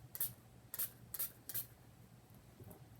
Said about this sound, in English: I'm going to actually start by spraying that.